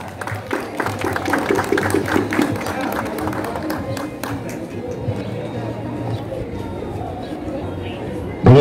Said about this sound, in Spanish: Fuertísimo los aplausos para él.